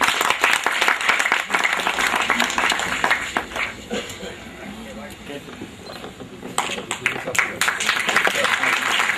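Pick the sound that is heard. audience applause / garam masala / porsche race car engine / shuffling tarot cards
audience applause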